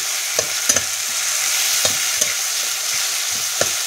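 Tomatoes fry and get stirred in ginger-garlic paste for a mixed vegetable curry, giving a continuous close sizzle with sharp spatula taps and scrapes against the pan at irregular intervals.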